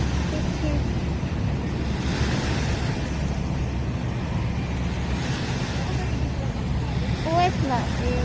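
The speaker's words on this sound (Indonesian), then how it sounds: "Ombaknya hari ini gede ya" Big sea waves wash against the shore in Hong Kong, a steady broadband surf roar with wind buffeting the microphone, while voices talk faintly over it.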